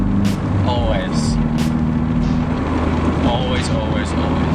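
A manual-transmission car's engine rumbles steadily at idle, a low continuous drone close by, with someone talking over it throughout.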